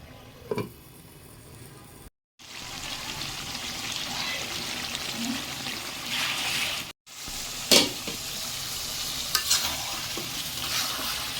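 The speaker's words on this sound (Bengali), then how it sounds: "দেখছেন সব কষানো হচ্ছে" Curry masala sautés in a pan with a continuous sizzle, broken by brief gaps and punctuated by scraping stirs of a spoon against the pan, close and moderately loud, no talking.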